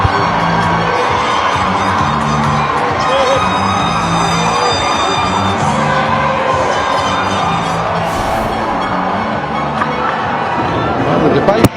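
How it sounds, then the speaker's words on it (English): Cricket stadium crowd cheers loudly and continuously for the whole stretch, a dense roar with shouts and horn-like tones layered over it, close and sustained. "One thing's for sure, the crowd are pretty happy."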